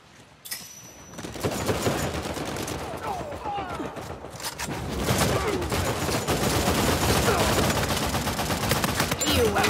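Gunfire in an Uncharted 4 online multiplayer match, bursts of automatic fire and scattered shots building into a dense, loud fusillade after a brief quiet opening.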